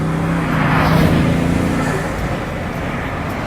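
Bugatti Veyron Grand Sport Vitesse with its 1183-horsepower engine accelerating on the road, a loud, deep engine surge that swells in the first second, then settles into a steady roar as the car pulls away.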